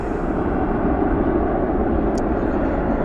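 An Airbus A320neo airliner passes at DFW airport at night, a broad, steady low roar of jet engines filling the scene at constant loudness, with a brief faint high chirp partway through.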